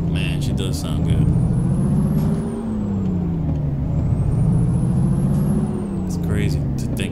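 The stock-engine truck in Euro Truck Simulator 2 runs with a loud, continuous diesel drone that rises and falls in pitch as it revs, with a few brief clicks near the start and end.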